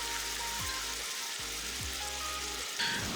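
Stir-fried fish fillet sizzles steadily in sauce in a pan, a continuous hissing fry with a few low knocks and shifts from stirring, no talking.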